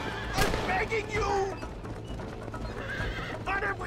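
Horse neighing and hooves clip-clopping in Red Dead Redemption, several whinnies riding over a rapid, steady gallop rhythm, with faint voices in the background.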